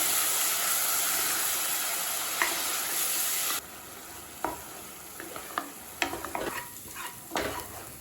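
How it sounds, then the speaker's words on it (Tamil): Ground onion paste sautéing in oil in a kadai gives a steady sizzling hiss at first, then softer frying with sharp scrapes and clinks of a spoon stirring against the pan. "இப்போ அரைச்சி வச்சுருக்க வெங்காயத்தை இதில் சேர்த்துக்கலாங்க. வெங்காயத்தை நல்லா பச்சை வாசனைக்காக வதக்கிக்கலாம்."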